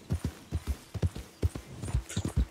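Horse hooves clip-clop in the Red Dead Redemption 2 video game, a close, regular run of hollow knocking steps at a walking pace, moderately quiet with no talking over them.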